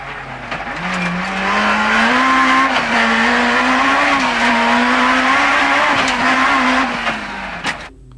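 Onboard a rally car, BMW built by ProDrive, racing across a headland at high speed during the 1990 Killarney International Rally of the Lakes: a loud, sustained engine drone rising and falling with gear changes, plus road rattles.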